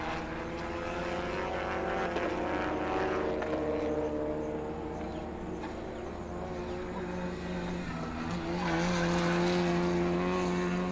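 Race cars circulate on track at the Indian National Car Racing Championship, a steady close engine drone with shifting pitches that swells louder near the end, with no talk over it.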